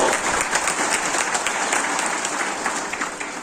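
Audience at a temple fund inauguration ceremony in Maharashtra clapping loudly for the chief minister, dense sustained applause from a crowd that tapers slightly toward the end.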